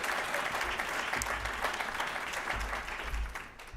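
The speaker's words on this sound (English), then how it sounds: "Please give him a round of applause as he comes." A seated audience gives a brief round of continuous clapping at moderate distance as a speaker comes forward, tapering slightly at the end.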